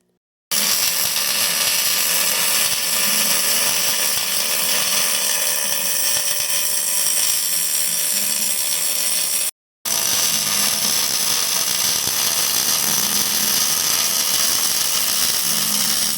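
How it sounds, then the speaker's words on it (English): A brace is welded into the tongue of a 6x12 utility trailer, giving a steady, loud hissing crackle that runs unbroken, stops for a brief pause, then resumes just as steadily. "Now we're going to weld that brace in there."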